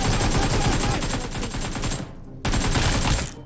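Automatic gunfire in the mobile battle royale game PUBG Mobile, dense rapid bursts of shots that stop briefly and then resume, loud and close.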